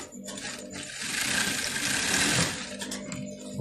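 A sewing machine stitching Owoko fabric, a close steady rapid whirring run that builds and then slows to a stop, without speech over it.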